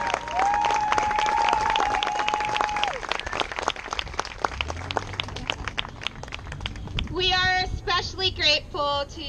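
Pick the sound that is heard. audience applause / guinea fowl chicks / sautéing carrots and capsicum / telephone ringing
audience applause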